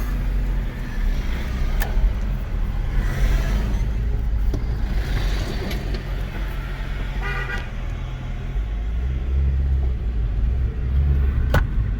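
A manual Nissan QG15DE-engined car driving off, steady loud engine rumble and road noise up close, with a couple of brief horn-like toots and clicks.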